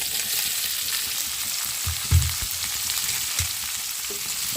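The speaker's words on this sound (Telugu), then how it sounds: "టమాటా ముక్కలు వేసి బాగా ఫ్రై చేస్తున్నాయి" Tomato pieces and browned onions frying in a pan for a masala brinjal curry, a steady close sizzle with a few stirring knocks and scrapes, no talking.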